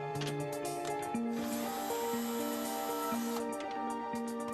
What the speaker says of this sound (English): Now unscrew the first fixing bolt